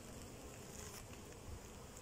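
Honey bees buzz around an open nuc hive, a steady droning hum from many insects close by, continuous and fairly even with slight swells in intensity.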